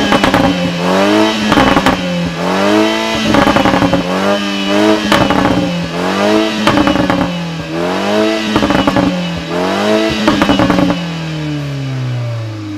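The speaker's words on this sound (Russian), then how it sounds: "если мы сейчас запустим двигатель автомобиля и включим его в режим спорт" A new BMW 3 Series engine in sport mode, revved repeatedly in a steady rhythm of about six rising and falling surges, loud and close, before settling into a falling tone at the end.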